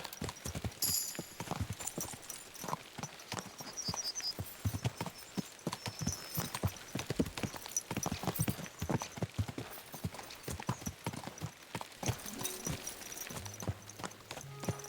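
Rapid hoofbeats of horses galloping in the video game Kingdom Come: Deliverance 2, a dense continuous clatter with a brief high whinny near the start.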